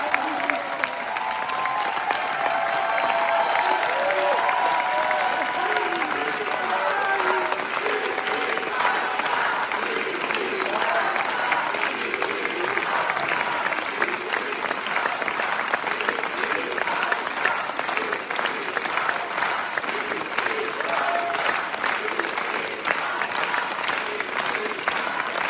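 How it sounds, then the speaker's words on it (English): A sustained ovation at a film screening, with dense, continuous clapping from a large crowd lasting throughout and chanting voices faintly mixed into the applause. "ovation during the applause with the Free Palestine chants"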